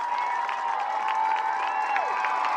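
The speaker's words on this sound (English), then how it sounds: "Listen to this West crowd." A stadium crowd at the 2017 Apple Bowl high school football game roars and cheers after a Bulldogs conference championship win. Sustained voices, whistles and scattered claps blend into a loud, continuous, slightly distant din.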